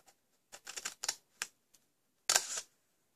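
Scissors snip into cardstock for a self-closing gift box, making a few short, crisp cuts close by and then one longer cut, with quiet pauses in between.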